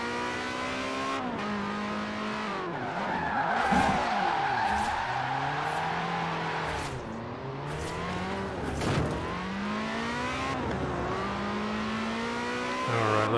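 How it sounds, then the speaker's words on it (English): A car drifting in Forza Horizon 4, its engine revving and rising and falling in pitch while tires squeal and skid through long slides, loud and continuous. "Let's get some more drifting in."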